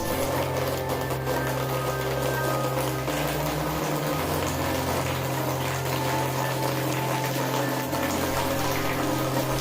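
Tap water flowing steadily through a Bajaj Skive 5-litre 3 kW instant geyser, a continuous rushing, pump-like hum that stays loud and even throughout, with no voices.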